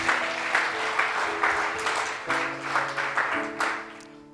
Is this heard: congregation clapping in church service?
yes